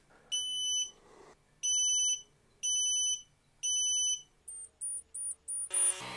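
A Creality Falcon 2 22W laser engraver beeps after a firmware update: four loud, evenly spaced long electronic beeps, then a quicker run of four shorter higher beeps, all alone with no talk.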